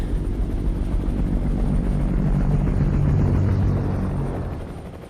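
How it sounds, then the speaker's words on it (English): A helicopter drones loudly overhead above a city, its rotor thumping in a steady, pulsing rhythm that stays close throughout before easing slightly at the end. "I don't know if you can hear that helicopter"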